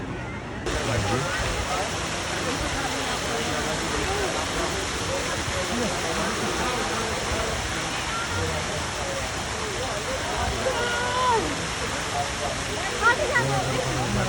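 Water pours steadily down an artificial Govardhan hill fountain at Prem Mandir, Vrindavan, a continuous broadband rush like a small waterfall, with faint voices and bird sounds beneath.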